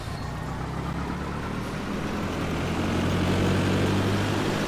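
Steady propeller aircraft engine held at 1800 RPM for a run-up in Flight Simulator X, a continuous low drone that swells slightly toward the end, with no talk over it.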